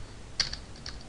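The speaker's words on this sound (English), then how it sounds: "let me type it right," Computer keyboard being typed on, a couple of quick soft keystroke clicks in a near-quiet room.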